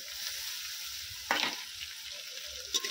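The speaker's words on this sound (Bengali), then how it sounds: "আদা রসুনটাও কিন্তু খুব ভালো করে কষিয়ে নেব।" Ginger and garlic paste frying in oil with browned onions, a soft continuous sizzle broken by two louder bursts of crackling as the pan is stirred, with no voices.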